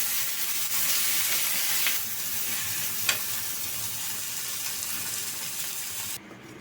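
Vegetarian banana-flower paturi fries wrapped in banana leaf, giving a steady hissing sizzle at moderate loudness, with one brief sharp crackle partway through before it quiets at the end.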